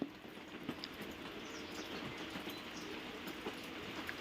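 Heavy rain falls outside during an indoor soap-making session: a steady, dense broadband hiss with scattered faint patters runs evenly throughout, with no talking.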